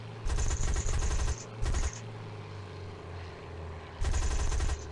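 Rapid aircraft machine-gun fire from a Spitfire in the video game Wings of Duty, three loud sustained bursts, two close together at the start and one near the end, over a steady engine drone.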